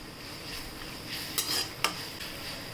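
Onion and vegetables for idli manchurian are stirred in a pan, with a faint sizzle under two sharp clinks of a spoon against the pan, close by and without speech.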